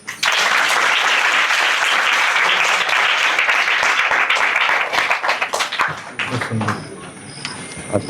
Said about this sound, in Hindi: तो भाई इसके लिए भी तालियां।